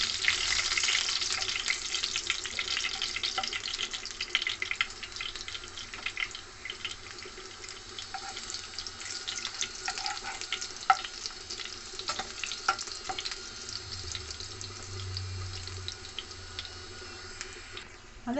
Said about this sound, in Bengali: উল্টে পাল্টে ভেজে নেবো লাল লাল করে